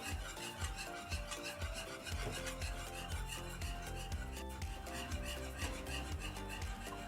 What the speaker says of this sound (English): Continue stir until it's well incorporated.